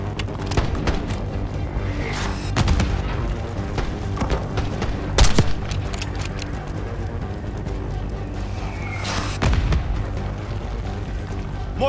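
Mortar blasts and gunfire in Call of Duty Black Ops 6, with repeated booming impacts and scattered shots over a continuous rumbling battle backdrop, one loud blast standing out partway through.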